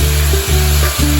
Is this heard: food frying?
yes